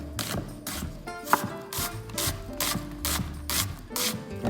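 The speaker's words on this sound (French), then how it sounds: "Une fois l'oignon épluché, on va le ciseler. Très finement si possible." An onion is finely chopped with a knife on a board, a quick run of crisp, evenly spaced blade strikes up close.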